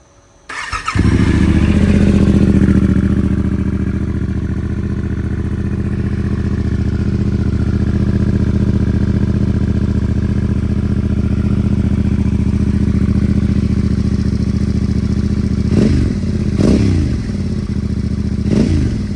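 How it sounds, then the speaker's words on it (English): A Yamaha Tenere 700 motorcycle with a New Wings exhaust starts from ice cold, firing up after a brief crank into a loud, close, steady idle that holds throughout, with a few quick throttle blips near the end. "So let's fire it up."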